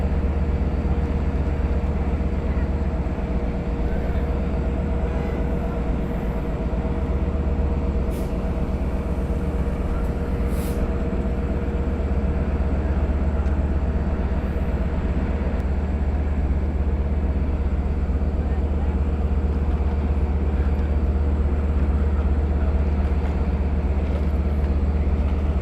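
A Long Island Rail Road train sits idling at Westhampton station, a loud, steady diesel rumble with constant mechanical drone and faint hiss throughout, unbroken for the whole stretch.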